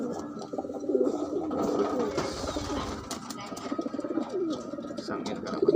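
Pigeon cooing from a blue bar bird, soft repeated low coos over a steady bed of other birds and background noise.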